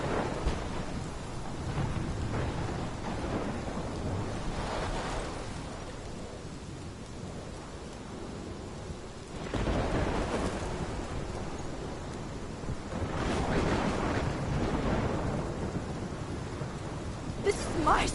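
Video game thunderstorm: steady rain hiss with repeated rolling thunder swells, loud and continuous throughout, with no voices.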